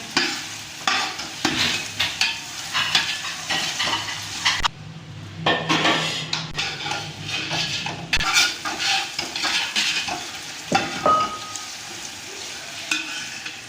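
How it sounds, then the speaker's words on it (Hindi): Onion with oil, dry coriander and cumin fries in a pan, a steady close sizzle broken by repeated stirring scrapes and clinks of a spoon against the metal. "ये प्याज डाला है हमने, इसमें ऑयल डालते हैं, खुश्क धनिया, जीरा, इसको हम अच्छी तरह भून लेते हैं।"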